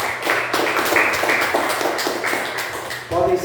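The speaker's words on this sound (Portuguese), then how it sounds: "Vamos dar uma salva de palmas ao Senhor?" A church congregation clapping their hands in praise during a worship service, a brief burst of rhythmic clapping from many people with a voice heard over it.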